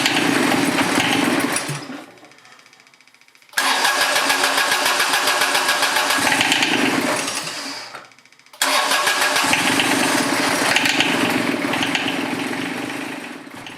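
John Deere 755 diesel tractor engine cranking and running loudly close by, a dense rapid clicking, hammering chatter that cuts out twice and comes back.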